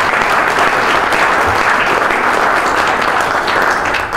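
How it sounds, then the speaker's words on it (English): A large audience at the HCSA awards ceremony applauds with dense, continuous clapping that holds at an even, loud level from start to finish. "we can give them a round of applause, even though they're not here"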